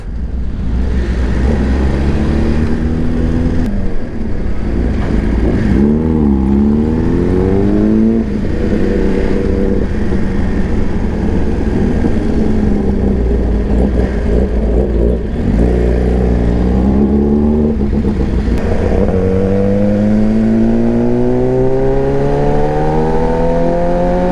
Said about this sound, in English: The race fit exhaust is one of the loudest exhausts.